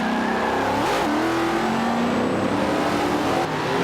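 A V8 race car engine drones steadily at high revs as it laps a circuit, its pitch rising and falling through gear changes, loud and continuous with no talk.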